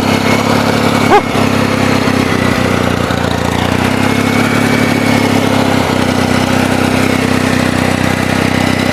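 The engine of a Case 448 runs as the driver sets off: a loud, close, continuous drone that holds steady throughout, with a brief clank near the start.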